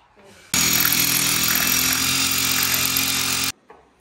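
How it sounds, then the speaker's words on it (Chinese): An impact drill bores through a stainless steel panel into wood set behind it, giving a loud, steady whine and rattle that runs about three seconds before stopping abruptly, with faint talk before and after. "一会儿我们用冲击钻头打的时候就好打"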